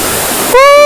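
Rushing water pours at Ezharakund waterfall in Kannur, Kerala, as a loud, steady hiss for about half a second. A sharp tonal voice or whistle then cuts in over it.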